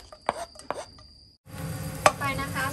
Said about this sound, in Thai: ใส่กระเทียม